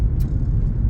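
Vauxhall Vectra 2.6 V6 SRi engine giving a steady, deep growl, loud and close, with a constant low rumble and no speech.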